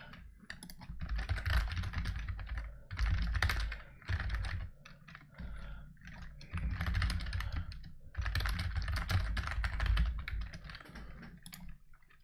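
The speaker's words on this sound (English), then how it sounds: "I know typing is quite loud" Rapid clattering keystrokes on a computer keyboard, loud and close, coming in dense bursts with short pauses between them and no voices.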